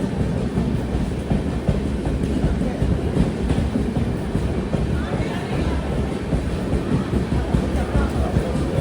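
A passenger train running on the Rajahmundry to Visakhapatnam line in Andhra Pradesh, heard from inside as a steady loud rumble with rhythmic wheel clatter throughout, and a voice speaking faintly under the noise.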